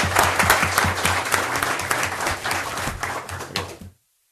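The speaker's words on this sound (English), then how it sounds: "One more round of applause." Applause at a city council meeting for a high school girls water polo team: a steady round of clapping from the chamber audience, dense and fairly loud, then cutting off abruptly near the end.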